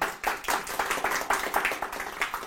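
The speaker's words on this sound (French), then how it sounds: "on applaudit John" Clapping from a small audience at a podcasting workshop, rhythmic and fairly close, with distinct claps in a near-regular beat rather than a broad ovation.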